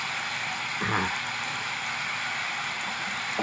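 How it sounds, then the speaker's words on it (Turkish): Constant hiss of steady rain falling on surfaces in the Philippines, with brief low rumbles mixed in beneath the downpour. "Geldik yine yağmur."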